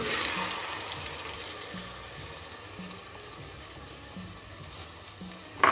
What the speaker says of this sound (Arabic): صافي نسخن شويه هاد الثومه، غادي نزيد عليها هاد العدس